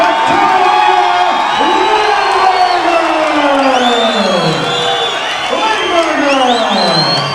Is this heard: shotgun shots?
no